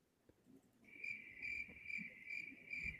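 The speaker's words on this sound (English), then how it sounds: "I was waiting for the crickets noise right then" Crickets chirp as a sound effect, a steady high trill that begins about a second in and pulses in a regular rhythm until the end, clear and fairly close over a faint low background.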